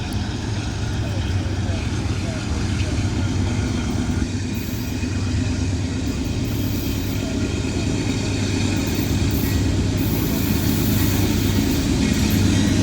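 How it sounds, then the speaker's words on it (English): A heavy, loaded northbound CSX freight train rumbles steadily past with a deep, continuous roar and grinding mechanical noise that never lets up. "Northbound CSX coming, 372 axles. He's pulling hard."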